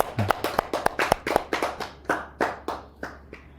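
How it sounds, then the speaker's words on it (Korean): A small audience clapping at a Buddhist dharma talk, a sparse run of distinct close hand claps in an uneven rhythm that slows and fades toward the end. "함께 박수 한번 부탁드립니다."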